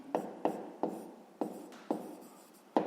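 A pen scratches across paper in short, distinct strokes, roughly six of them in a quick uneven rhythm, close up and fairly quiet, with no voices.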